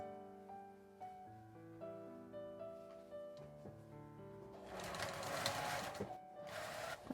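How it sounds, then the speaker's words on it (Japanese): A sewing machine edge-stitching the outer fabric of a quilted, insulated lunch bag with a zipper; the steady whirring stitch run comes in near the end, over background music. "こちらも同じように表だけ端ミシンをかけます。"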